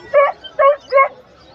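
Several dogs, including bully puppies, at a crowded open-air market in Bocaue bark in three short, sharp yips with a whimpering edge, fairly close, with faint crowd murmur between them.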